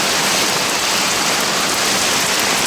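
Heavy monsoon rain pours down in Nalasopara, Mumbai as a dense, unbroken roar that stays loud and even throughout, with no voices.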